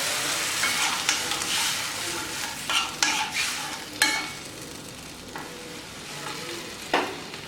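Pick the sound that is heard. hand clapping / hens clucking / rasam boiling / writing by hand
rasam boiling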